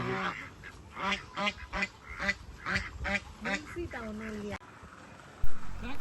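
Repeated nasal quacking from ducks in rapid bursts, fairly close, with a few quieter honks and sounds toward the end.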